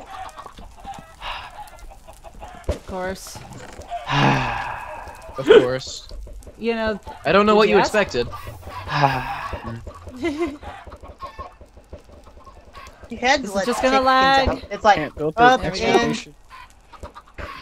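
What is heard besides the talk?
chickens clucking on a video game chicken farm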